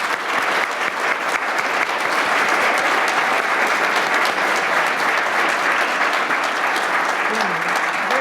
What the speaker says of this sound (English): Can we give our panel here a round of applause?